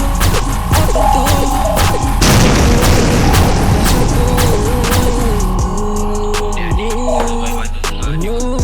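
Loud, continuous booming and throbbing rumble like a missile explosion, with deep low-end roar, crashing bursts and a steady hum running through the whole stretch, no talk.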